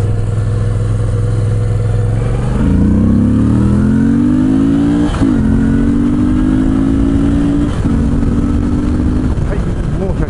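A 2013 Moto Guzzi V7 accelerates at full throttle from low gear onto a highway. Its engine note climbs loudly and steadily, with two clear gear shifts, and a rising pitch after each shift.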